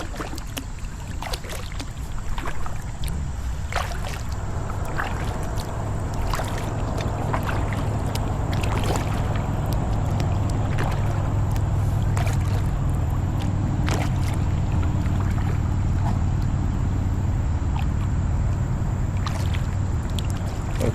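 Lifetime Lockport kayak paddling on a lake, with steady water lapping and soft splashes from paddle strokes against a constant low outdoor rumble, close and continuous with no talk.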